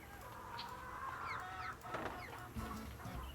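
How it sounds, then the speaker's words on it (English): Chickens clucking in the Nancy Drew video game The Secret of Shadow Ranch, a busy farmyard fowl chatter of short clucks and squawks over steady ambient background noise, with no voices. "This nonsense with chicken laying eggs every 30 seconds."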